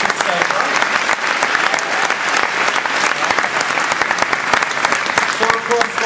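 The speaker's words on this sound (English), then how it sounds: "Big round of applause" A large audience at PAX Australia 2013 claps loudly and continuously during a Microsoft Xbox One presentation, a dense wash of applause from many hands.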